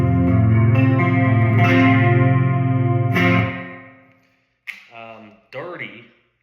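A PRS S2 Custom 24 electric guitar on its neck pickup, with a chorus-like effect, rings out a sustained chord that slowly fades, then plays two short, separate notes.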